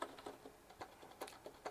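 Light, quiet typing on a Rapoo V100 compact keyboard with closely spaced square keys, a soft, even patter of individual keystrokes heard close up with no talk.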